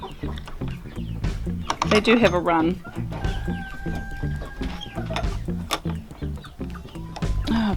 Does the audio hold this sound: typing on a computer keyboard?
no